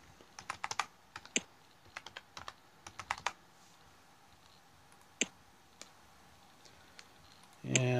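A password is typed on a computer keyboard in quick bursts of crisp, close key clicks with short pauses between them, then a louder rushing noise cuts in at the very end.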